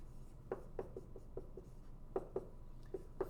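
Pen or marker strokes on a board writing an answer during a physics lesson, a series of short scratchy taps in irregular rhythm, close and fairly quiet with no talking.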